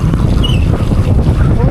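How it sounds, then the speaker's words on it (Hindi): Loud, steady wind buffets the microphone while riding a motorbike on a snowy road in Kashmir, a constant low roar that fills the whole moment. "हवाएं इतनी तेज़ है, लगता है आपको आवाज़ तक मेरी नहीं आती होगी"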